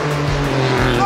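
A race car revs loudly and launches off a starting line fitted with a launch booster, a strong steady engine drone holding through the whole brief burst with a slight tire-squeal edge.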